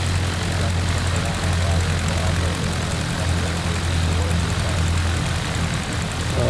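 A light aircraft engine idles and drones steadily while taxiing in the X-Plane flight simulator game, a loud, continuous low hum with a broad noisy wash that holds without a break.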